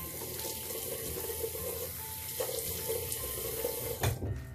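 A bathroom tap pours steadily into a sink as someone wets their face, with soft splashing and a brief louder splash near the end.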